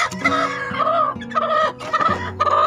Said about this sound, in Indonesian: Meskipun indukan ayam ini mencari anaknya dan dia protes